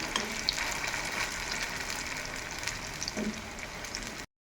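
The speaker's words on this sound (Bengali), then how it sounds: "গ্যাসটা মিডিয়ামে রেখে এটা প্রায় তিন মিনিট মতন এইভাবে ভেজে নেব" Thin pumpkin slices fry in a kadai over a medium gas flame, giving a steady, fairly quiet sizzle that runs evenly throughout with no voices.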